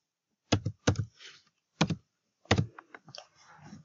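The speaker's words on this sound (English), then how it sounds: "Now I'm gonna type in that code over here" Someone types a verification code on a computer keyboard: a few crisp keystrokes in uneven groups, up close in a quiet room.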